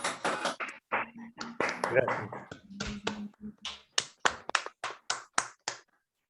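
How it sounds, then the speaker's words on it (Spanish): Applause from an online audience over open microphones after a talk: a run of sharp, separate claps and snaps, loud and spaced, with a few voices talking over the first half and one voice briefly saying thanks. "Les pido que abramos los micrófonos, así le damos un aplauso por la linda charla a Gerardo"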